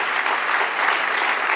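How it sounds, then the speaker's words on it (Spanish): Steady, dense applause from a church congregation clapping in praise during a Spanish-language sermon, even and continuous throughout the short stretch. "Otra aplauso al Señor."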